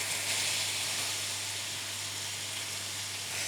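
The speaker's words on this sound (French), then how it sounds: "je mets ma poêle à chauffer et on va mettre le miel à caraméliser" Mangoes sizzling in caramelizing honey in a hot frying pan, a steady close hiss of frying throughout with a faint low hum beneath and no talk.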